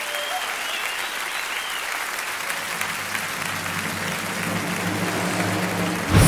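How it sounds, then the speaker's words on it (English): A theatre audience applauds a magician at a FISM prize-winning magic act, dense sustained clapping that fills the room and swells slightly toward the end, with music rising underneath. "continuez à applaudir, on est à 15."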